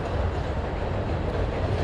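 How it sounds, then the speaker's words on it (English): A train rolls past on rails, close and loud, its steady rumble and faint clickety-clack filling the short stretch with no voices. "We'll capture the train. We'll zoom in on the train."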